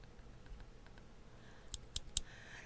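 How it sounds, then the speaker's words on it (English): Scissors from a sewing kit handled quietly, a few crisp metallic snips toward the end against a faint, hushed background. "Can you see these scissors?"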